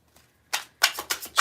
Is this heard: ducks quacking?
no